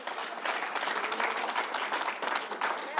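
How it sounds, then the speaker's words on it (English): A crowd applauding steadily, dense clapping from many hands at a fairly even level throughout. "Let's give the Reverend another round of applause."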